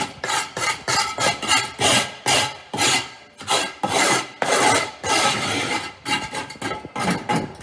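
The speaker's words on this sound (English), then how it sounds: "So make sure you scrape all down, all the way along," Hard bits are scraped off a wall before patch plastering. Loud, rhythmic rasping strokes repeat in quick succession, close by and with no one talking.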